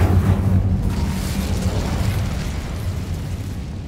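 In the game Hogwarts Legacy, an Incendio fire spell sets off a loud, deep whooshing burst that rumbles on and slowly fades over a few seconds, with no voices.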